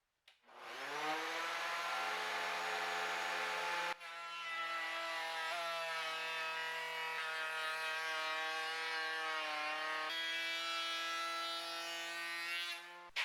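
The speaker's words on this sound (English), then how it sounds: "it's the Dewalt's turn to attack this walnut with the raised panel bit in it." A DeWalt 2 1/4 HP router fitted with a raised panel bit cuts through walnut, a loud sustained high whine that bogs and shifts pitch in stages as the bit bites, with no talking over it.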